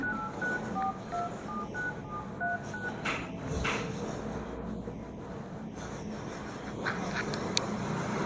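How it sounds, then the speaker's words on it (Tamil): A phone keypad beeps out a rapid series of short dial tones as a number is entered, followed by quiet room noise and faint handling sounds. "நம்பர் போடணும்."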